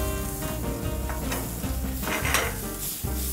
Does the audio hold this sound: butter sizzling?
yes